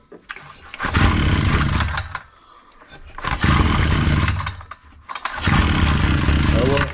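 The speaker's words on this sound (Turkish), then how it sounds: "Şimdi motoru çalıştıracağım." Datsu petrol brush cutter engine pulled three times, each attempt a loud, rough roaring burst of about a second and a half separated by short quieter gaps, close by.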